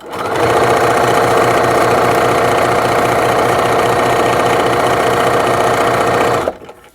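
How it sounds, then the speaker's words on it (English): A sewing machine stitches straight down an elastic strap in one continuous fast mechanical whir, loud and close, stopping abruptly near the end. "And we're going to sew straight down."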